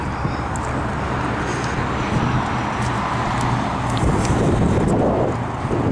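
Steady, cold outdoor wind rushing and buffeting close to the microphone beside a 2010 Toyota RAV4, a continuous broadband roar with faint traffic-like rumble beneath.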